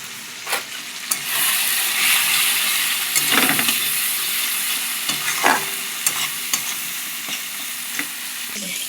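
Spiced soybean chilli sizzles steadily in a pan while being stirred, with scraping strokes and small clicks of the utensil breaking through the continuous frying hiss, fairly close.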